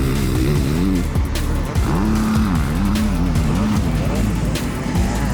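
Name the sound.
enduro motorcycles racing at full throttle on cross test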